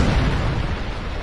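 An AGM missile strike in Call of Duty Modern Warfare 2 Remastered, a single loud, deep booming explosion with a heavy rumbling tail that fills the entire short moment.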